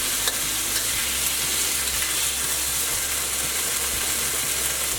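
Beef searing in hot oil in a wok for pad see ew, a loud dense continuous sizzle close up with faint spatula scrapes and stirring, no voices.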